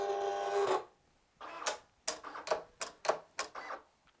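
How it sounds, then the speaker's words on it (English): A Silhouette Cameo cutting machine works through vinyl lettering with a fast series of short mechanical whirs and taps, close and moderately loud, following a brief electronic hum at the start. "it will cut the vinyl lettering out first, and then it will cut the background layer"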